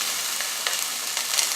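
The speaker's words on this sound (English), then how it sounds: "nice crackle when they hit the pan." Vegetables frying in a hot skillet with a bright, steady sizzle and crackle, close and continuous, with slight stirring pops and no voices.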